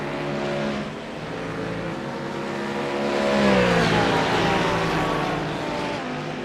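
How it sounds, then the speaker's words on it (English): DTM race cars at Brands Hatch howl past on track at high speed, a loud continuous engine roar whose pitch climbs and then sweeps downward as a car passes close by. "listen to the speed of the cars as they race their way by"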